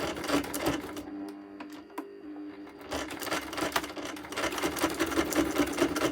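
Sewing machine running in steady bursts as it stitches a zigzag across layered paper journal cards, a close, busy mechanical whir that pauses briefly before picking up again.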